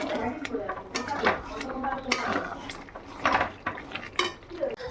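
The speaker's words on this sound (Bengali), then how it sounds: "আমার এখানে এঁচুড়ের মশলাটা কষছি" A spoon scrapes and clanks against a pan in repeated strokes, frying young jackfruit masala that sizzles softly, with people talking over it.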